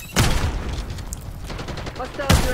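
Gunfire from the shooter game Call of Duty Black Ops 6 comes as two loud bursts, one at the start and one at the end, with rattling game noise between them and a player speaking over it.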